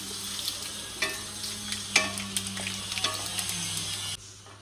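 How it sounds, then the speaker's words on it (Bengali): Black cumin seeds and dried red chilies tempering in hot oil give a close, steady sizzle dotted with sharp crackles and pops, with no talking, before the sound drops away abruptly near the end. "এই তেলে আমি কালো জিরে আর শুকনো লঙ্কা ফোড়নে দেব"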